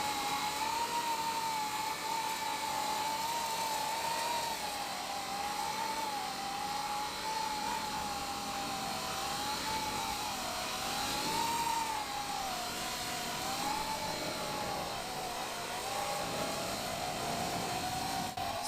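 A Coanda-effect drone flies at about half throttle, a steady high whine of its motor with a slightly wavering pitch, continuous and fairly loud throughout with no talk.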